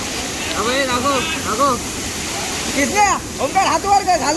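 Chander waterfall in Malvan, Konkan, pours in a steady broadband rush, while voices talk and call loudly over it throughout.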